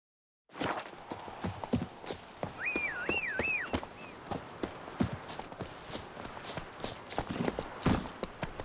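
Horse hooves clip-clop at a steady walking pace in The Witcher 3, a dull rhythmic plodding over a quiet outdoor ambience, with a brief sung or whistled melodic phrase partway through.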